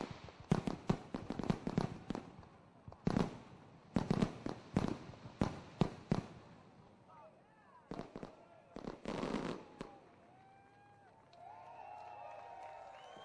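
Loud bursts of fireworks crack and boom in rapid clusters at sprint car races, with pauses between volleys, followed by distant crowd noise and cheering toward the end.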